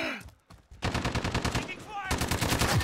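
Machine gun fire in COD Modern Warfare: rapid, evenly spaced automatic bursts with a brief pause between strings, loud and close, with a short faint voice at the start.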